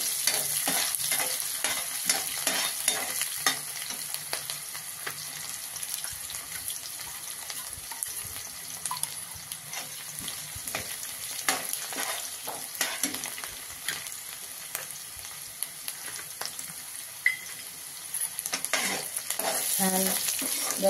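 Chopped onions sizzle steadily in a hot pan, stirred with a spoon that scrapes and clatters in an irregular rhythm; close, continuous frying noise for the whole stretch with no talking.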